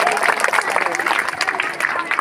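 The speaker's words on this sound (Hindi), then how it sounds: "जोरदार तालियां।" Dense applause from an audience at a school annual function, continuous and fairly close with a crowd-like wash throughout and no clear breaks.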